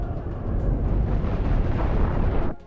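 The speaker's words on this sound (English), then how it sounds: "there is a significant amount of gunfire incoming" Heavy incoming gunfire in the Cosmoteer space battle game, a dense, loud, continuous roar of rapid blasts that cuts off abruptly near the end.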